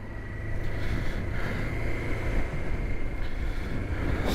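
Motorcycle ride through Christchurch, with a dense, steady roar of engine and wind buffeting a helmet microphone, loud and continuous without any break or voice.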